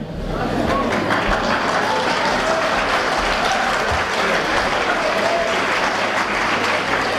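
Sustained applause from a large crowd, loud and continuous throughout, a dense wash of clapping with no pauses.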